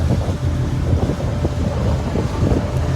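Strong wind buffets a boat out on the open sea, roaring and gusting against the microphone with low rumbling and splashy bursts, continuous and close.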